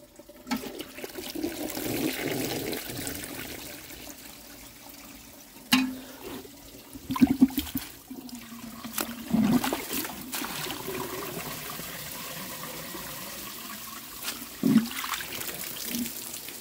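Water falling inside a life-size clay toilet through its siphon jet, heard as a flush-like rush followed by trickling and dribbling, with a few sharp knocks and splashes along the way.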